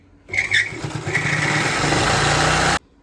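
A sewing machine runs steadily for about two and a half seconds, stitching a new saree border onto an old quilt (godhadi). A continuous, fairly loud motor whir is heard with no talking.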